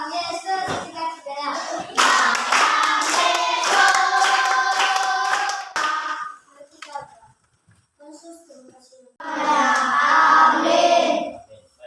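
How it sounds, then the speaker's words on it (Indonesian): Classmates in a classroom burst into enthusiastic applause after a short prayer, the clapping loud and sustained for several seconds before a pause and a second round; children's voices and a teacher's speech surround it. "Berikan tepuk tangan"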